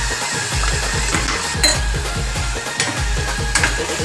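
Whole spices (cloves, cinnamon, black pepper, bay leaf) sizzling loudly in hot oil for chicken curry, a continuous close frying hiss with a regular rhythmic stirring pulse underneath.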